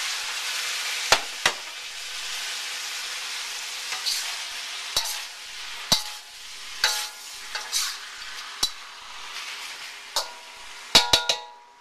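Ma po tofu mixture sizzling in a hot pan, a steady frying hiss broken by sharp clanks and scrapes of a spatula stirring against the metal, with no one talking.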